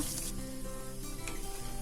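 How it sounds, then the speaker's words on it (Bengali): Onions frying in a pan, about a cup added to oil already used for okra: a steady, close sizzle with soft crackling throughout, no talking. "এ পর্যায়ে আমি পেঁয়াজগুলো ভেজে নিচ্ছি"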